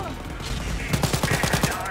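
A Sturmgewehr assault rifle firing in the video game Wolfenstein: Youngblood: a rapid burst of about eight shots in the second half, close and punchy, after a stretch of game noise that includes some talk.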